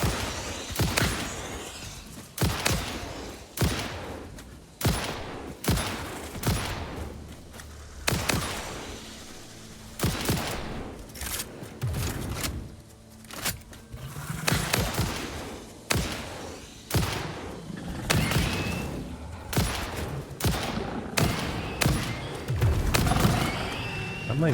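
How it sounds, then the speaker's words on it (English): Gunfire in the video game Satisfactory, repeated sharp shots and bursts at irregular intervals, some rapid volleys, loud and close, with a voice talking between shots. "I heard someone trying to shoot me."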